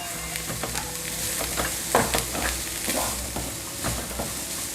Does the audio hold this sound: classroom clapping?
no